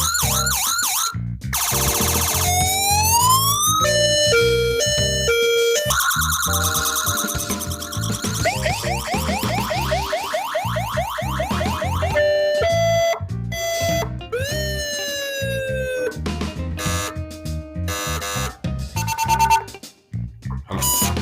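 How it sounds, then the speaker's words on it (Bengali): A 300-watt electric siren horn for cars blares loudly and continuously, cycling through wailing, yelping and warbling tones with rapid pitch sweeps and sharp switches between patterns, close and alone without talk. "300 ওয়াটের হর্ন, 300 ওয়াটের মেশিন"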